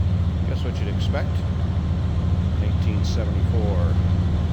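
A 1974 Chevrolet C20 pickup's 454 V8 idles with a steady low rumble, heard up close from the rear, with faint voices talking briefly over it.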